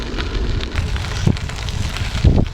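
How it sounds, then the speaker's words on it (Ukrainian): Steady wind rushing and buffeting against a microphone outdoors on a bike path, a continuous roar with occasional low gusty thumps. "ще листить гравій, дує вітер"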